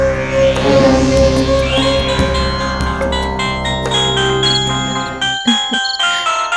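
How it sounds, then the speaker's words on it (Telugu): A phone rings with a loud, melodic chiming ringtone in a Telugu TV serial scene, a sequence of bright tones ringing close by before it cuts off abruptly. "సూర్య ఫోన్."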